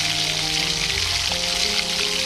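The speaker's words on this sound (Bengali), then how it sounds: "বড়াগুলোকে 2 মিনিট ভালো করে নাড়াচাড়া করে ভেজে নিলাম।" Jackfruit fritters fry in hot white oil in a wok, giving a loud, steady, dense sizzle that continues without a break and with no voices.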